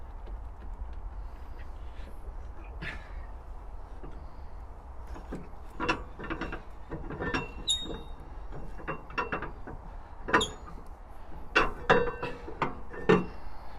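Metal bar and screw being undone on the weed hatch lid of a canal boat: scattered clinks, scrapes and squeaky turning sounds, close, over a steady low engine rumble.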